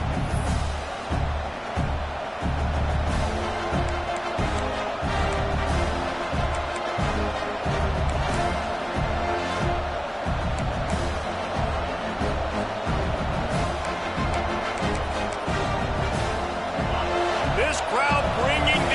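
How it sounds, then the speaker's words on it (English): Crowd roar in a college football stadium during a USC versus Notre Dame game, a loud sustained wall of cheering with band or thumping rhythmic beats underneath, continuous throughout. "This crowd bringing the energy and noise early."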